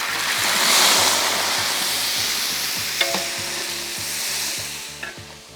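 Onion paste frying in a pan for a sea fish curry, a loud, close, continuous sizzle with stirring, a couple of sharp clicks from a spoon striking the pan and a rhythmic low stove hum underneath.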